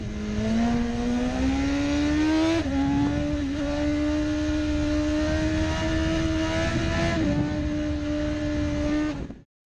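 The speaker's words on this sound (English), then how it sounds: "This BMW motorcycle features a 999cc engine producing up to 193 horsepower" A BMW 999cc sport motorcycle engine drones loudly and steadily at high revs, its pitch rising briefly and settling, with no voices, then cutting off abruptly at the end.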